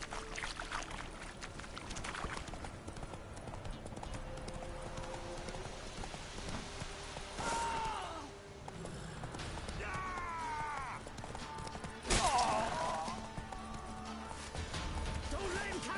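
A horse in The Witcher 3 gallops with a steady clip-clop of hooves under game sounds and shouts, near and fairly loud, with a few sharper accents along the way.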